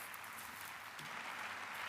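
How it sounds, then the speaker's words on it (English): Applause in the German Bundestag, a steady broadband patter of many hands filling the chamber, fairly quiet and distant, holding even and swelling slightly toward the end with no voices over it. "warm applause there from the Bundestag"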